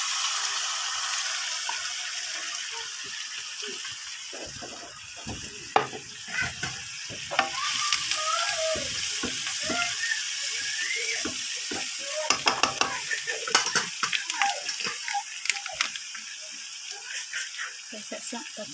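Beans tipped into a hot frying pan and stirred for a Bicol-style dish, with a steady sizzle under repeated scraping and clacking strokes of a utensil against the pan.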